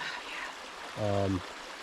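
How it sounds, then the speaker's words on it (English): A clear stream tumbles over boulders through small waterfalls in a nature preserve, a steady broadband rush with a brief voice-like tonal sound partway through. "I really liked the stream here. The boulders, the rocks, the little waterfalls."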